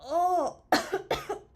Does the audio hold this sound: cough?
yes